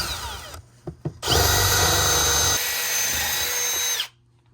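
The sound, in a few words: drilling a hole through the roof for penetrations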